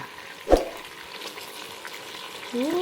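Marinated meat frying in a pan, a soft continuous sizzle at low level with a sharp clatter near the start, likely a utensil stirring, and faint tonal sounds toward the end.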